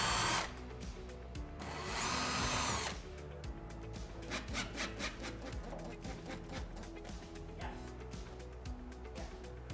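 Kitchen wall cabinet brackets being fixed to a wall with power tools, bursts of loud drilling near the start, then repeated tapping, rubbing and scraping work sounds close by.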